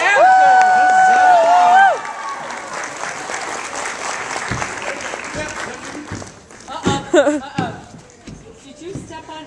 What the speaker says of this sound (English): a round of applause for Tim and Vicky and our dancers